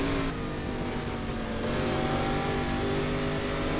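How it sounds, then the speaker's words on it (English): Ford V8 of about five litres revving in the GT Legends racing game, a loud, steady, close engine roar that holds throughout with only slight changes in pitch. "Here we can maybe unleash the raw power of the 5 liters Ford V8"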